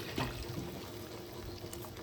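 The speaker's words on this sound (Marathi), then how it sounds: "त्याच्यात घेतलं पाणी" Water pours into a blended mixture of gram flour in a kitchen, heard as a faint, steady trickling stream with no talk.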